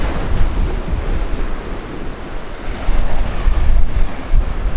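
Sea waves washing onto the shore at Ballintoy on the Northern Ireland coast, a continuous loud roar of surf with heavy wind buffeting the microphone.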